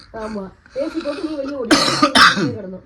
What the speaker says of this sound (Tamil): ஐயோ இருமல் மட்டும் போவே மாட்டேது